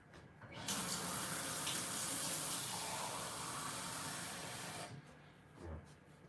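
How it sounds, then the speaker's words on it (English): Water runs steadily from a tap into a mug for about four seconds, a loud continuous splashing rush that cuts off abruptly, followed by faint handling sounds. "I'm going to go fill this with water."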